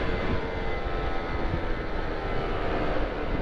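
Motorcycle fitted with a Pure Sound R9 Carbon exhaust, a deep, steady low rumble at a fairly constant pitch, heard close and alone.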